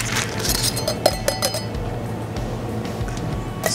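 Ice clinks against a chilled martini glass as it is emptied while an Old Cuban is made, with a few bright taps and chimes over a steady background bed.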